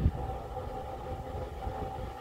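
A Sears single-speed electric fan runs at close range with a low rumbling drone and a thin, steady tonal whine over it. The sound is quiet and continuous, with no talking.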